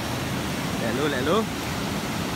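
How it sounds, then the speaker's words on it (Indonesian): A strong river current at Sungai Lata Kolam in Terengganu makes a continuous, even rush of water that fills the clip, with a brief voice rising over it midway. "Kita tengok arus dia memang kuat lah."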